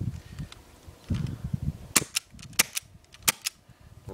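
Airsoft M9 Beretta BB pistol fired outdoors, a handful of sharp snapping shots in quick, uneven succession, loud and close, over faint background noise.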